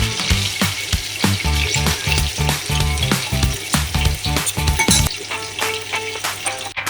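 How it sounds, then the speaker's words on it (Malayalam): Chicken deep-frying in hot oil for a Kozhikode-style biryani sizzles loudly and steadily, with clanks and scrapes of a ladle stirring and lifting pieces out of the pan throughout. "നമ്മൾ ചിക്കൻ വറുത്ത് കോരുകയാണ്"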